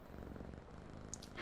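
A cat purrs close by with a soft, steady rumble that continues throughout. A couple of faint higher sounds come in near the end, and no one speaks.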